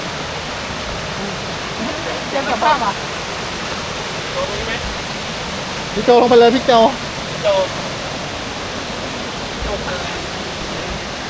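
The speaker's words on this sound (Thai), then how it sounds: "เฮ้ยน้ำตกน้อย" Steady broadband rush of a small waterfall at Krok I Dok in Thailand, continuous throughout with people talking briefly over it.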